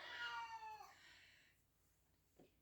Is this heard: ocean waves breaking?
no